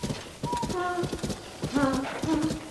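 A horse in Zelda: Tears of the Kingdom clip-clops with rapid, rhythmic hoofbeats, mixed with a drawn-out tonal whinny-like call and game sounds in the foreground.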